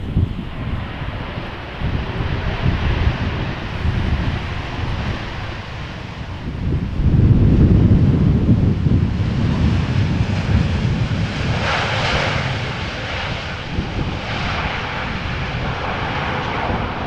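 An airliner arriving at Amsterdam Schiphol Airport in crosswind, an eight-year-old plane on flight 703 from Bonaire, gives a loud sustained engine roar that swells as it passes, mixed with wind buffeting on the microphone.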